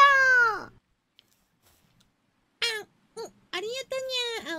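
Cat meows from the Palworld video game, a loud drawn-out meow followed after a pause by several shorter chirping meows, close and clear with near silence between them.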